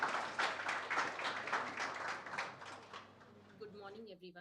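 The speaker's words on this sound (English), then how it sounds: "A big round of applause, audience, for her." Audience applause for a presenter at a sustainable development conference, steady clapping for about three seconds that thins out and fades as a speaker begins talking.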